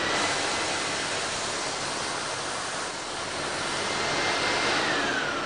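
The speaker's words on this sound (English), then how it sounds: "So if I turn on the vac now," A steady, loud broadband rushing hiss of a Pure i6 industrial steam vacuum cleaner running continuously, with a slight dip midway.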